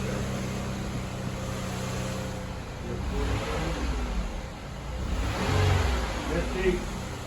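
A Chevrolet Malibu Maxx engine revs up twice in a parked car, each rise swelling and then settling back to idle, with a person talking over it.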